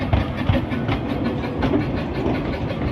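A train runs along the line into a station with a steady rumbling roll and rhythmic clickety-clack of wheels over rail joints, loud and close throughout.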